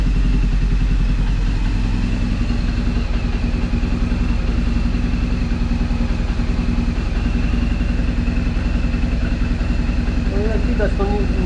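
A BMW R 1200GS motorcycle engine idles unevenly while warming up, its steady low throb lumpy and slightly irregular, close by and continuous throughout, with a faint voice under it.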